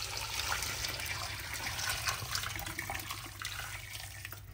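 Water pours steadily into a cooking pot of chicken with onion, turmeric and salt, a continuous soft splashing rush lasting several seconds.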